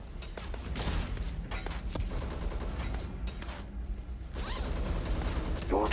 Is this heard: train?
no